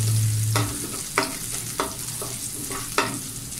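Garlic sizzles in a hot frying pan, a steady hiss broken by several sharp scrapes and clacks as it is stirred, close and fairly quiet with no talking.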